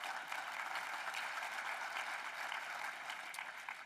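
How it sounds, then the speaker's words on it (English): An audience at the 2023 Lion's Den Live program claps for honored individuals, a dense continuous patter of applause at steady level, dipping slightly near the end. "a round of applause for all of those individuals as well"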